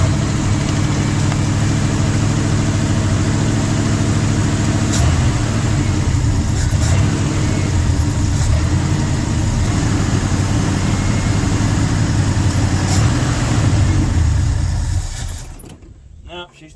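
Rough-running 360 V8 in a 1971 Ford F100 pickup, abandoned for 39 years, rumbles unevenly and loud up close with a few sharp clanks, then stumbles and dies near the end.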